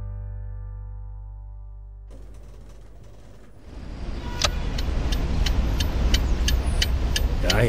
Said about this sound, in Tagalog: Kahit kailan talaga, hindi na nawala ang traffic dito sa lugar na to